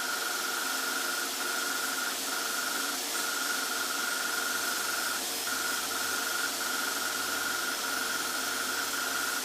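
An airbrush sprays Tamiya metallic paint inside a running spray booth, a steady, even hiss with a constant mechanical hum beneath, close and unbroken with no talk.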